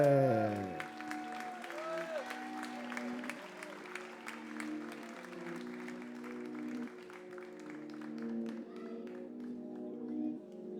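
A crowd at a Muay Thai fight night applauds and cheers for a fighter. The clapping and noise sit beneath loud ring-walk music and a booming announcer-style voice, so the applause comes through as a textured layer under the music.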